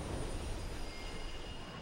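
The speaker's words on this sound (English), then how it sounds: "There's the train." A train in the Mirror's Edge video game rolls along steadily, a continuous broadband rumble and rail noise with a faint high whine, sustained at even loudness throughout with no talk.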